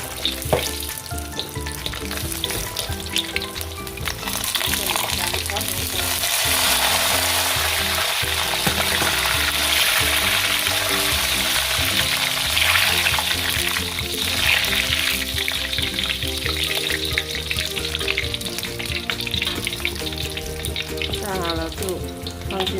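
Pork leg pieces fry steadily in a pan of hot oil, a dense, continuous close sizzle that holds loud and even throughout with no talking.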